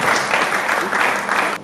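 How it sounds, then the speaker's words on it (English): An audience at an International Women's Day conference on the female economy applauds a panelist, bursting into a dense, even clapping that stays loud for the whole moment and then cuts off. "Please a round of applause for her."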